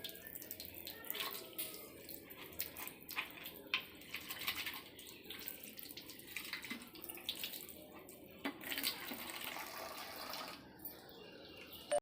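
Water runs from a tap into a container, a faint, steady splashing stream with scattered drips and sloshes continuing throughout.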